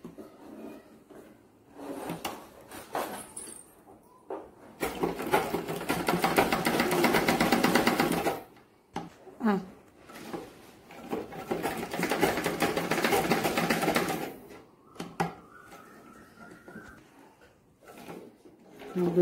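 A sewing machine stitches a child's frock in two long runs of rapid, steady whirring, with quieter handling and fabric rustling between and around the bursts, close and moderately loud.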